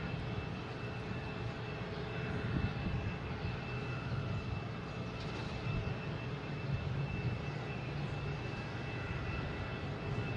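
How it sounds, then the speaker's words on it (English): A Spirit Airlines Airbus A321 with an orange nose takes off from Boston Logan toward Fort Myers, its jet engine roar a continuous, fairly even rumble heard from some distance, with no voices. "Next taking off is Spirit Airlines"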